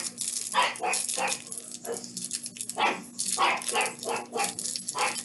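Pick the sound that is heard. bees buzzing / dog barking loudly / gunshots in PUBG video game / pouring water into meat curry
dog barking loudly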